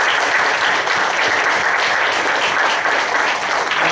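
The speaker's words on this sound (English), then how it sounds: "Let's give them a big round of applause" Loud, close, continuous applause from an audience after a candidate debate, a thick unbroken patter of many hands clapping that stays even from start to finish.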